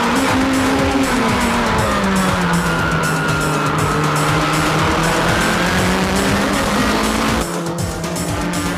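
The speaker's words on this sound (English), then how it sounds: "Back to GT500, Orido is just booking with no one in front of him." GT500 race cars lapping a JGTC circuit, a loud continuous engine drone that sweeps gently in pitch as the cars run, with tyre noise mixed in and a brief drop near the end.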